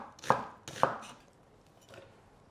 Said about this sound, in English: Just roughly chop up the onion,